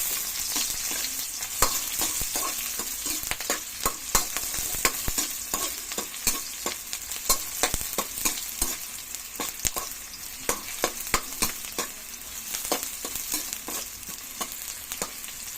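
Onion and garlic sauté in hot oil in a pan for Filipino mung bean stew, giving a steady close sizzle broken by frequent sharp spatula scrapes and clinks against the metal, with no talking.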